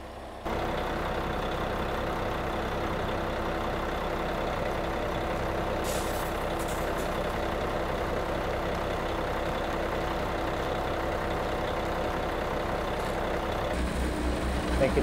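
A concrete pump truck runs steadily while a cleaning sponge is sucked through its line, giving a continuous heavy engine drone with faint clanks and a rougher low rumble near the end.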